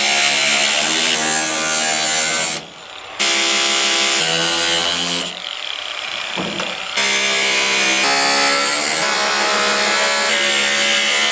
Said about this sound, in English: I went ahead and cut a little bit of a relief with the angle grinder